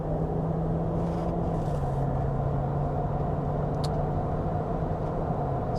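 Range Rover L322 TDV8 with a roof tent accelerating on a main road, heard from inside as a steady low engine drone and road rumble with slowly shifting pitch, no talking.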